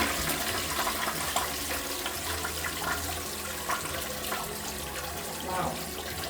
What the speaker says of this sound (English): They have this big flush and then they have a baby flush.